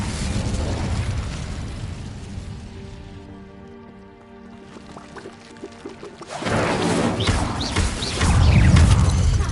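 An Incendio fire spell cast in Hogwarts Legacy bursts out as a loud whooshing, crackling rush of flame, following a quieter tonal stretch, and swells in intensity toward the end.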